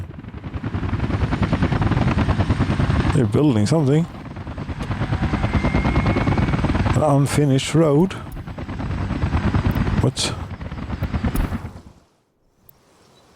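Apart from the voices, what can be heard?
helicopters flying in the video game Workers & Resources: Soviet Republic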